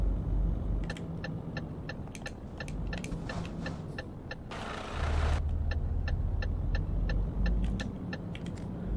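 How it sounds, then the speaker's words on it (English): Truck engine in Euro Truck Simulator 2 labouring uphill between Kiel and Malmö, a steady low drone with a brief surge of noise mid-way as gears change, accompanied by regular ticking of an indicator. "A bit of changing gear as I go up the slope."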